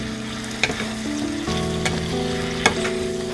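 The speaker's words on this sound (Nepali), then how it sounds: "अब अदुवा लसुनलाई तरकारीमा राम्रोसँग मिलाइदिउँ।" Ginger garlic paste is stirred into green beans frying for a curry, giving a continuous sizzle broken by a few sharp spoon scrapes against the pan, all under soft background music.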